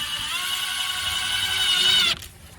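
A power drill runs steadily, driving screws into a chicken coop door. It holds a loud, sustained whine for about two seconds, then stops abruptly and leaves quiet room tone.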